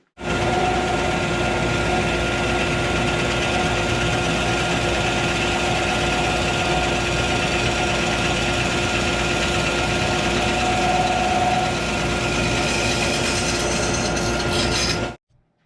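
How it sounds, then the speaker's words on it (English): A bandsaw running through a wooden axe handle to cut a channel, a steady loud mechanical whir with a constant hum that holds evenly for about fifteen seconds before shutting off abruptly. "I cut it out with the bandsaw"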